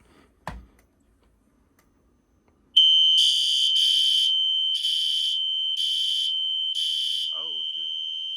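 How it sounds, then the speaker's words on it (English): After a faint click, a loud, piercing smoke alarm triggered with a magnet during a fire alarm system test starts with a steady shrill tone pulsing in rapid repeating beeps, close by and continuous. "we're gonna go ahead and test the smoke detectors now"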